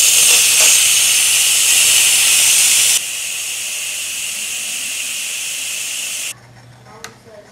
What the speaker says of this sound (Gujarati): કેન્સલનું બટન દબાવી તરત સ્ટીમ નીકાળી લેવી